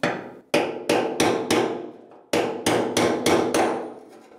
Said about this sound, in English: Now with a brass punch and a hammer, I'm gonna take the fuel pump retainer ring off